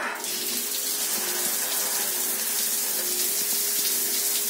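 Shower water running steadily at home, a continuous broadband hiss of spray with no voices, holding an even level throughout.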